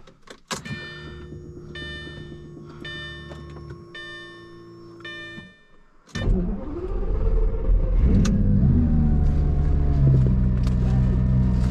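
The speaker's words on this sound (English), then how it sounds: "So it's a cold start." A stock 2004 Lamborghini Gallardo goes through a cold start: a few seconds of dashboard chimes and ticking, then the engine cranks and roars to life, settling into a loud, steady idle.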